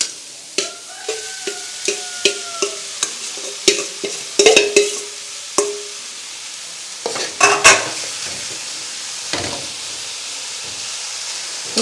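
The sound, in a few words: thazhuthama leaves being stirred and fried in a pan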